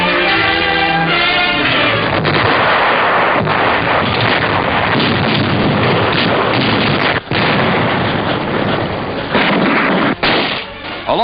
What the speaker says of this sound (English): the Yanks advanced slowly, facing one of the fiercest artillery barrages of the war